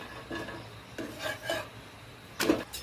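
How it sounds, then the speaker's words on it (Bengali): Egg paratha is pressed down and toasted in a pan, giving soft scraping and rubbing strokes in a loose rhythm of four or five quiet pushes, ending with a brighter scrape, close and faint with no talk. "এটা ভালো করে আমি পরোটাটা সেঁকে নিচ্ছি, একটু চেপে চেপে চেপে চেপে"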